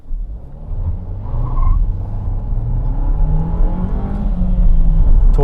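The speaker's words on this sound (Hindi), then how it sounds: "थोड़ा बहुत व्हील स्पिन ज़रूर हो जाता है क्योंकि इंजन में बहुत ज़्यादा पंच है" Renault Duster turbo petrol engine pulling hard under acceleration, a loud close engine note that climbs steadily in pitch and volume over several seconds without talk.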